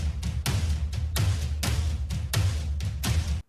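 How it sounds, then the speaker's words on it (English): Big tom drums hit in a progressive house breakdown, sounding as loud, booming strikes in a steady rhythm over sustained chords and a full atmospheric pad. "And these big tom drums."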